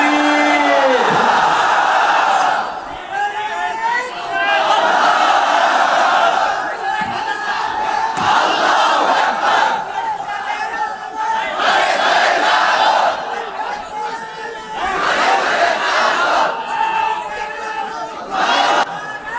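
Large crowd at an Islamic tafsir mahfil roaring takbir in reply to a preacher, loud collective shouts rising in several waves across the clip, each swelling and fading with brief lulls between.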